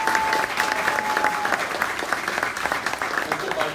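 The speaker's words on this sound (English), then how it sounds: "So could you please give them a round of applause?" Audience applause at an unsung heroes awards ceremony, a steady, fairly loud burst of many hands clapping that continues through the whole stretch, with a faint steady tone early on.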